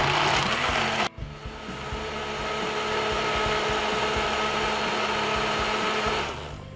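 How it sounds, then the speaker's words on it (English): A kitchen blender runs continuously while blending a peanut punch drink of peanuts and ice cream. It gives a loud, steady motor whir with a brief dip near the start, then holds an even roar. "Blend this in roughly about 3 to 4 minutes."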